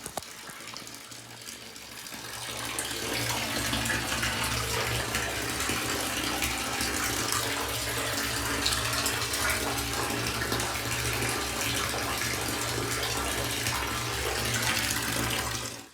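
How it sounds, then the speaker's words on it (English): Water gushes steadily out of a separator tank outlet, well downriver from a building, as a continuous loud rushing flow with a low hum beneath it. "the water overflows and comes out the outlet"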